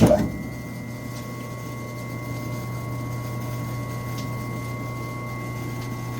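A Highland Park 10 inch stainless steel trim saw with a 1/2 horsepower motor starts up and runs with a quiet, steady electric hum and faint whine, holding an even drone after a brief startup bump.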